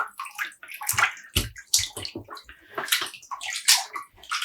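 Water sloshes and splashes in bursts as mohair yarn skeins are dunked and tucked into a dye bath at home, with gurgles and drips between the movements.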